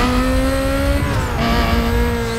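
Lamborghini in Need For Speed: Most Wanted roars with a loud, sustained high-revving engine tone that dips briefly as it shifts, then climbs again, with tire noise underneath and no talk.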